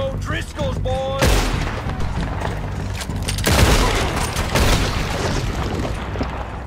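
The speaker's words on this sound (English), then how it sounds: "Oh, who's shooting at me?" Gunfire in Red Dead Redemption 2 during a shootout with Driscoll's gang: loud, close volleys of shots and booms that repeat over several seconds, with a voice briefly talking underneath.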